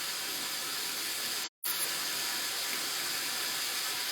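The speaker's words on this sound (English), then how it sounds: "I'm rinsing boiled potatoes" Tap water runs steadily over boiled potatoes being rinsed in a kitchen sink, a continuous close hiss with one brief dropout partway through.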